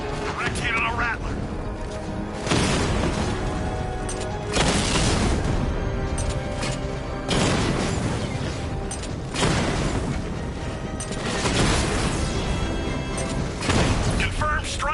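Drone strike explosions in Batman: Arkham Knight, repeated heavy booms and crashes that come in several bursts under game voices and a dense, continuous sound bed.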